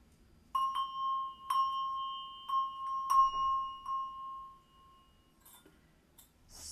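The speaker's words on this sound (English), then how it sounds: "So ringing the bell." A small bell is struck several times, each clear ring sustaining and fading slowly in a quiet room.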